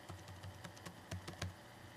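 Quick, light keystrokes on a Mac computer keyboard while renaming a file, an uneven run of soft clicks close by in a quiet room with no talking.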